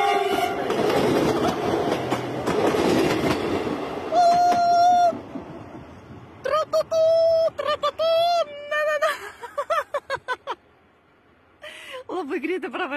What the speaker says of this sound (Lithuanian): Traukinys nutrenks Agnė.